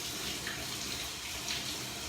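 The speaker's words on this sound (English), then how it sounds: "he's always running the water" Bath water running steadily from a tap, a continuous broadband rushing hiss with no talk.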